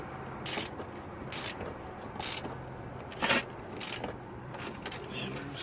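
A ratchet tightens rear strut bolts on a 2004 Nissan Sentra 1.8, giving short bursts of clicking spaced about a second apart, close by over a low garage hum.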